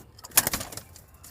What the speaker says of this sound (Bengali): সোমবারে একটা নর পায়রা কিনে এনেছি। নর পায়রাটা এই তো